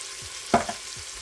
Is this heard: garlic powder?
yes